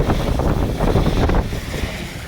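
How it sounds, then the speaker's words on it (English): Strong gusting wind of 25 to 30 mph buffets the microphone in a steady roar, with surges that ease slightly after a heavy gust midway. "We are sitting in 25 to 30 mile an hour winds."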